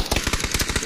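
Rapid automatic gunfire in the battle royale game PUBG: a fast, even string of about a dozen sharp shots, moderately faint and heard alone.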